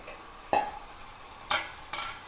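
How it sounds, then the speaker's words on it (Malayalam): Chopped onions, shallots and tomatoes tossed into a pan, three quick stirring scrapes over a soft, faint sizzle. "ഇനി ഇതിലേക്ക് ഉള്ളി സവാളയുമാണ് പൊടി പൊടിയാക്കി അരിഞ്ഞതാണ് ഇട്ട് കൊടുക്കുക"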